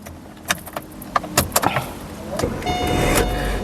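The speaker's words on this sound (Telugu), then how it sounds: "సింగిల్ సెల్ఫ్లో కార్ స్టార్ట్ అవుతుంది" A 2013 Chevrolet Sail LS started on a single crank: a few clicks and clunks, then a brief starter whir as the engine catches and settles into a steady idle, close by.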